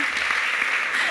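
A brief burst of audience applause at an Angular conference talk, dense and close, lasting only about a second.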